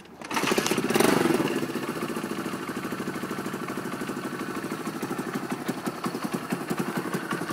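A 1974 Honda XL175 motorcycle idles after a cold start on choke, the single-cylinder engine catching with a brief rev, then settling into a steady, rapid putter close by.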